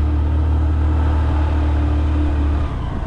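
A vehicle engine held at full throttle at maximum speed on a road in Sri Lanka, giving a loud steady droning rumble with a constant low hum that eases slightly near the end.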